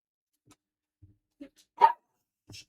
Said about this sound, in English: Of course he's gonna get barky.